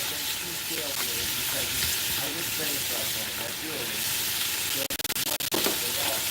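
Food browns in a hot pan with a continuous close sizzle and crackle, followed by a short burst of sharp clicks and knocks near the end.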